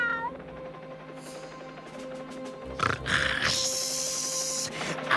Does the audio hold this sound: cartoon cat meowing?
yes